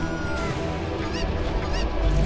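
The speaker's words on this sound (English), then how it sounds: "Wow, look at all those chickens." Loud, continuous squawking and honking of a flock of chickens in the Metroid Prime 4: Beyond video game, a dense, close chorus of overlapping bird calls with no talking.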